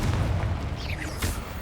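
A Confringo fire spell blast in the Hogwarts Legacy video game, a loud low boom with a rumbling thud and a brief bright burst partway through, heard alone without talk.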